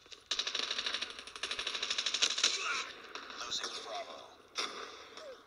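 COD Mobile gunfire rattles out in rapid automatic bursts, a fast, crisp, mechanical stutter of fairly close shots that stops and then comes back briefly near the end.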